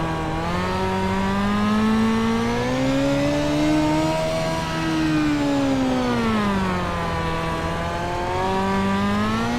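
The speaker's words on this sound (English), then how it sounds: "They're just bogging that motor down, trying to keep the wheels under them." A race car engine in the iRacing sim drones steadily on a Pro Car 50 at Lanier, its pitch rising and falling smoothly as the throttle is worked through the corners, loud and continuous with no voices.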